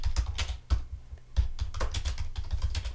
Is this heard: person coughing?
no